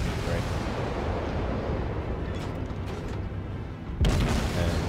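Guns of a German tier 1 warship fire armor-piercing shells in the World of Warships game: a dense, loud, continuous low rumble of booms, capped by a sharp, louder blast near the end.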